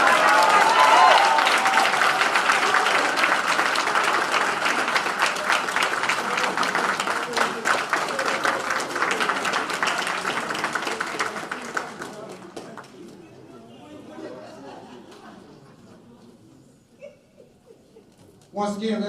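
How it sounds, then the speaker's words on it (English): A crowd at a university golf team's NCAA selection show claps and cheers loudly, the applause gradually thinning and fading out toward the end. "let's give the golf team and Coach Todd and Coach Smith a round of applause"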